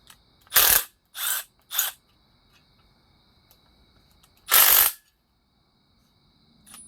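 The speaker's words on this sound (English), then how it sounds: "we're going to go ahead and zap off the rest of the screws to hold it together" A power tool backs screws out of the case of a KV100 Trail Boss 100 TC90 hi-low gearbox in four sharp, loud bursts, three close together, then a pause and one longer final burst, with quiet between.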